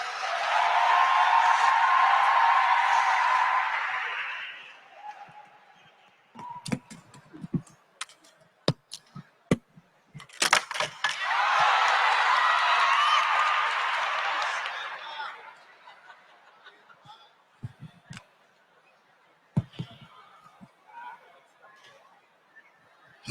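Audience applause at the NAMAS 2019 music awards performance night at the Domes in Swakopmund, Namibia: two long loud bursts of clapping and cheering, separated by scattered claps and crowd noise.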